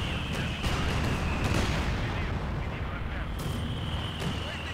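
Mortar and artillery fire in the World War II strategy game Company of Heroes 2 on a winter Rzhev map, with dense, continuous rumbling barrages and several sharper blasts rising out of a loud, steady wash of battle noise.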